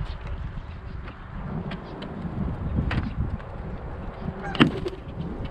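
Geese at Burnaby Lake honk in short, loud bursts close by, with one sharp honk standing out near the end over a low outdoor rumble and a faint background hum.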